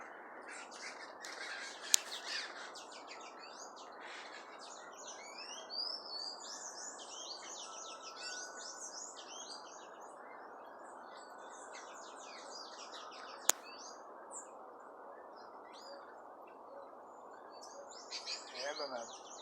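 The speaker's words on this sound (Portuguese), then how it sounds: "os pássaros estão caindo dentro." Many different birds feeding in a ripe fig tree squawk, chirp and tweet continuously, a dense overlapping chorus at moderate distance with a few sharper nearby calls.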